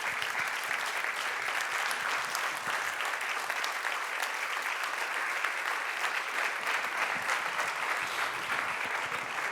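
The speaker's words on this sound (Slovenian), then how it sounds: "Spoštovano občinstvo, en velik aplavz," Steady applause from the audience at a startup competition awards ceremony, a dense and even patter of many hands clapping at moderate volume from start to finish, with no voices.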